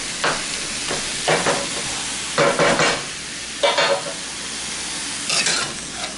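Mexican-style meat frying in a pan, a steady sizzle broken by five or six scraping, clattering bursts of stirring with a spatula, close and alone without talk.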